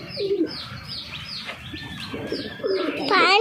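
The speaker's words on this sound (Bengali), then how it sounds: "এখানে সব পাখি এখন খাবে।" Pigeons cooing repeatedly at feeding time, several soft rolling coos close by with chirps mixed in, growing louder toward the end.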